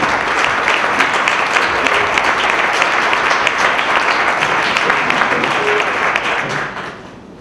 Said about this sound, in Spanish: os pido un aplauso para calentarlo y que se vaya animando